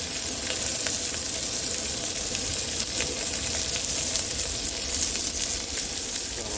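Onions sizzling as they fry in a smoking pan during cooking on a truck trailer trip, an even close crackling hiss with fine pops, steady and alone.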